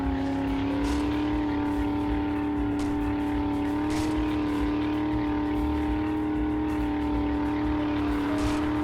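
A vehicle in the video game 7 Days to Die drives along with a steady droning engine hum. The sound holds constant and loud throughout, with no clear revving or passing.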